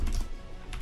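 A computer keyboard is typed on at close range to enter a command on a Raspberry Pi setup, a short burst of a few quick clacking keystrokes.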